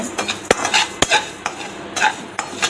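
Moong dal dry-roasting in a kadai over a medium flame, stirred with a metal spoon, giving sharp, regular clinks and scrapes against the pan about every half second over a faint rustle of the lentils.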